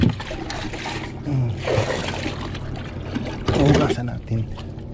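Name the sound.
water being scooped and poured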